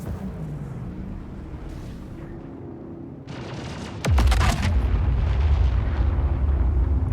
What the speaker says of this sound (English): A bombing run.